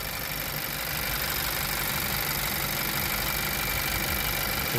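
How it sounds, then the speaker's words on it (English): A 2023 Honda CR-V EX-L engine idles with the hood open, a steady, unbroken hum and whir heard close up and alone. "the engine is on and running"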